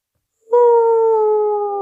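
Golden Retriever howl in a Roblox obby game: a single clear, sustained tonal howl that starts abruptly and holds steady for over a second, loud and close with no talk.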